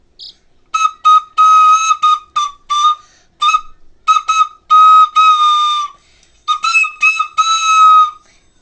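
Piping toy flute notes come in quick choppy bursts and a few longer held tones, loud and close, with no voices.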